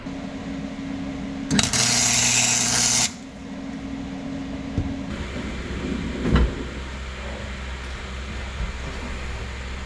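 A wire-feed welder lays a short bead on a fabricated transmission bracket for a C4 Corvette T56 swap: one loud, harsh buzzing burst lasting about a second and a half, then a low hum and a few clunks.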